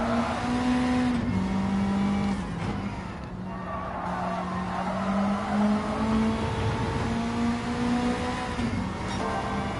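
Race car in a racing video game speeding down a straightaway, its engine droning steadily at high pitch with slight rises and dips, tires faintly squealing, loud and continuous throughout.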